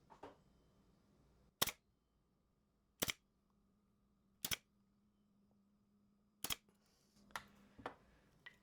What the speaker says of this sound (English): We'll get this all squared up, front, back, side, side, and pin nail it.